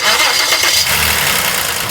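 A car engine with a worn, loose engine mount is put into gear, a loud close rumbling start that settles to a steady running idle.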